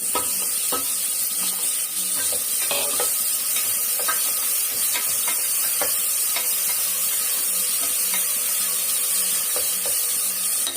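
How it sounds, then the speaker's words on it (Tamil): Tomatoes and onions sautéing in a pan for a mutton head curry, a steady sizzle and hiss with occasional scraping stirs of a spatula against the pan, no talk. "தக்காளி வெங்காயம் வந்து கொஞ்சம் நல்லா வதங்கட்டும் பாருங்க தக்காளி வெங்காயம் நல்லா வதங்குதுங்களா"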